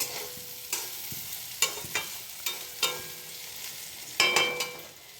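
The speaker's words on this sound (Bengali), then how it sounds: "মাছটা ভাজছি" Fish frying in a pan at home, a soft steady sizzle punctuated by sharp clicks and scrapes of a utensil turning the pieces, close up with no voices.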